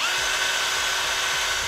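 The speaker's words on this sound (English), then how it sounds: "be extra careful when you're drilling" A power drill bores steadily through the steel frame of a 2013 Smart fortwo during a base plate installation, a loud, continuous high whine close up with no talk.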